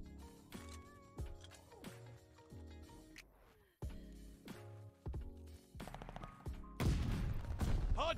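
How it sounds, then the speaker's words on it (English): Strafing-run gunfire in Call of Duty: Vanguard ranked multiplayer, a rapid series of sharp repeated shots and impacts in bursts, loud and close, building into a denser barrage at the end. "Strafing run, ready for action."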